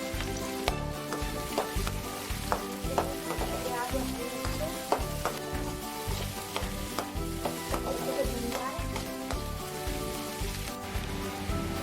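Chopped onion and green chili sizzle steadily in a hot pan for a masala macaroni, a dense crackling frying hiss with scattered pops and occasional stirring clatter throughout.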